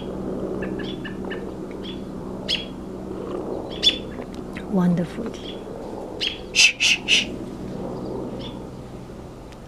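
Sharp bird chirps and tweets come in scattered bursts in a backyard, with a person briefly speaking and a low airplane drone in the background.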